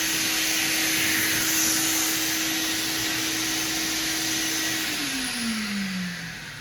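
A power sander works car body filler smooth before primer with a steady, close motor whine and hiss that winds down in pitch near the end as the tool spins to a stop.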